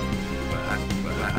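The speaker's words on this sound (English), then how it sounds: "Sound like frogs." Frogs croaking in the video game Grandia, a dense chorus of repeated throaty croaks running continuously and fairly loud.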